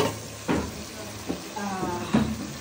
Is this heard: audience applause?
no